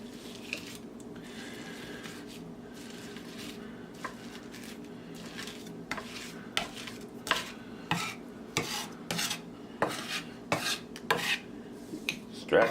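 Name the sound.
knife scraping garlic with kosher salt on board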